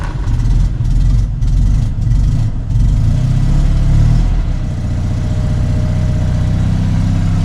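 A 1969 FIAT 500L two-cylinder engine runs loud and close, cranking roughly with brief dips at first before settling into a steady, throbbing low idle. There is no talk over it.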